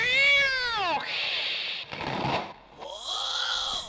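Loud, close cat meows, several drawn-out cries with rising and falling pitch, separated by short pauses and breathy noise.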